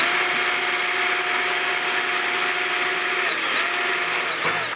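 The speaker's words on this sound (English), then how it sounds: "you do want to make sure that you drill all the way through" A power drill runs continuously, boring holes into a block of wood, its steady loud whine holding pitch before dipping briefly as the bit bites near the end.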